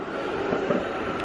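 A tram rumbles past in a steady, close, broadband roar with faint wheel and rail noise throughout, no voices over it.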